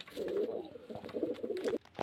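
Pigeons coo in soft, rolling phrases, two or three close calls in quick succession, quiet and alone.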